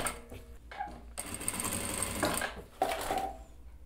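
A sewing machine stitches bias binding onto the edge of a tailored blazer, running in a couple of short bursts and then a longer steady run, close and moderately loud with no talking.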